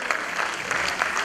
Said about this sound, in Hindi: कमल जैन जी के लिए भी जोरदार तालियां।